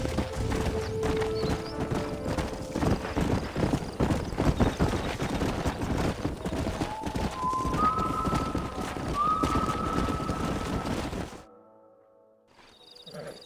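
Horse hooves clip-clop steadily and close in Red Dead Redemption, with a few whinnies and rising tonal game sounds laid over the busy, continuous trotting before it cuts to near silence.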